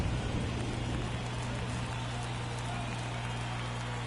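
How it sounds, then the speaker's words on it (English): Light rain falling at an Oakland baseball game, Kansas City at Oakland in the playoffs: a steady, even hiss of drizzle over a low continuous hum. "Got some light rain in Oakland here."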